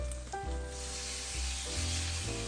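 Onions and shiitake mushrooms sauté in butter for a pork steak dish, giving a close, steady sizzle with constant hissing over a low, humming background.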